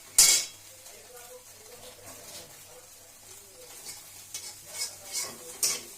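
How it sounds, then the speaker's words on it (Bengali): Beaten egg is stirred and fried into small crumbly pieces in a pan for dim tarka. A utensil scrapes and clinks against the pan over a soft sizzle, with a sharp clatter at the start and a few louder clinks near the end. "একটু নাড়তে থাকতে হবে যাতে এটা ছোটো ছোটো অংশে ডিমটা এইভাবে টুকরো টুকরো হয়ে ভাজা হয়।"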